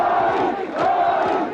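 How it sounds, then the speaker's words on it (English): A massive crowd of tens of thousands of supporters on a main street cheers and chants in unison, a dense, loud roar of many voices with rhythmic swells. "greeted by tens of thousands of cheering supporters"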